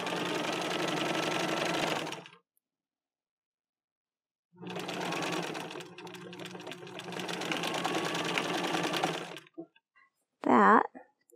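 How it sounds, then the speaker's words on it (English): Domestic sewing machine overstitching the seam allowance of a simple medieval tunic, running in two sustained bursts of steady whirring stitching separated by a pause, followed by a brief sharp mechanical clunk near the end. "Now I'm going to go back over it with a zigzag stitch on my machine."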